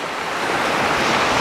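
Sea waves break and wash onto the beach at Anapa, Russia, a loud, continuous roar of surf close by with no one talking.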